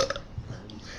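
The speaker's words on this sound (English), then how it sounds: "don't burp while we on video" A single short burp from a man at Michigan Central Station in Detroit, close and fairly loud, with a bit of room echo and no talking over it.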